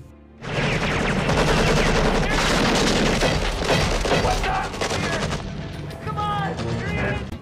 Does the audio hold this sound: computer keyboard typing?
no